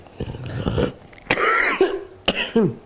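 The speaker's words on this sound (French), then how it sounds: "fallait bien que je tousse un peu." A person with asthma coughs hard and close up: a cluster of rough coughs, then two louder, separate hacking bursts with strained, wheezy tails.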